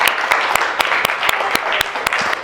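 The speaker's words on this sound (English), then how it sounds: "I would like to give a big applause" An audience applauds steadily after a keynote lecture, with continuous close clapping and sharper individual claps standing out throughout the short clip.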